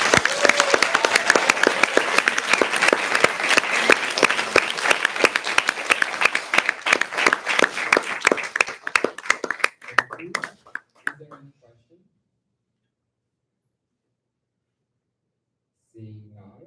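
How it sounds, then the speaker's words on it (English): At a student general assembly session, a meeting audience claps in a dense, crisp burst of individual hand claps for about ten seconds. The clapping breaks up into scattered claps, then falls silent before a voice briefly starts speaking. "So big round of applause to them"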